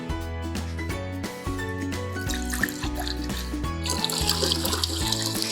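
Water is poured into a pot with vinegar and salt to make quick pickle brine, a splashing rush rising in the final seconds beneath steady background music.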